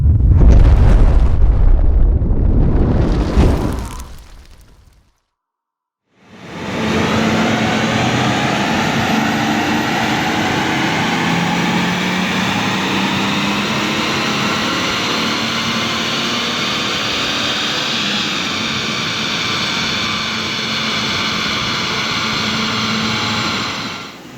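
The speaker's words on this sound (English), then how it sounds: "we're going to bang it on the dyno, see what it's running" A tuned BMW 435d diesel engine strapped to a dyno, roaring loud and steady at high load for a long sustained pull after a brief burst and a short silent gap.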